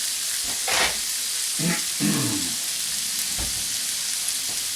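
Rice noodles with oyster sauce cooking in a pan, giving a steady close sizzle and frying hiss with a few brief stirring or clattering bursts, no talking.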